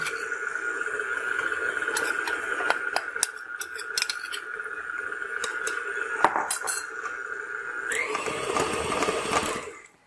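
A spice cake batter with cinnamon, cloves and added vanilla is whirred by an electric mixer, a steady close motor drone with clicks of beaters against the bowl, pitch shifting near the end before it stops.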